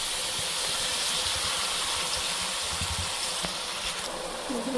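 Onions frying in hot oil in a pan while cooking an ilish fish and green banana dish, a loud continuous hissing sizzle with no talk.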